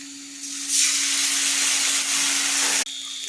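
Garlic dropped into hot oil, a loud sudden broad sizzle that swells and holds steadily for about two seconds, then cuts off abruptly, over a low steady hum; no speech.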